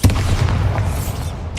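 A Bombarda blasting spell explodes in Hogwarts Legacy, a loud, dense booming blast with a heavy low rumble that sustains for over a second before a brief crackle at the end.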